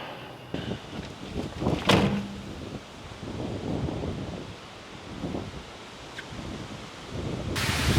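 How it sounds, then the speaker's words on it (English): Strong wind buffets the microphone in rumbling, gusty waves, with rustling and a few clunks, no one speaking. "It is crazy windy right now."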